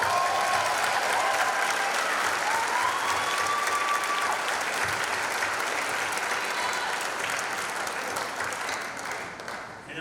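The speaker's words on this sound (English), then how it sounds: "one big round of applause" Loud, sustained crowd applause at a high school pageant, dense clapping with some cheering that holds steady for about ten seconds before starting to taper.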